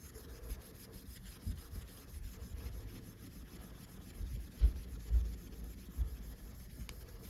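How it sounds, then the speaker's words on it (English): A tool scrapes and rubs excess grime off the oil dipstick tube of a 3rd-generation 1996–2002 Toyota 4Runner, giving faint, irregular close-up scratching strokes with a few louder knocks. "we're going to use that to scrape off that excess, and we're going to keep cleaning"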